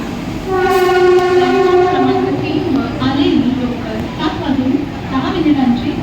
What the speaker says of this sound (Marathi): प्लॅटफॉर्म क्रमांक 3 पर आई हुई लोकल 7:10 की कर्जत जाने वाली तेज लोकल है